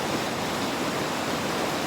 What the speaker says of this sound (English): I am by the water again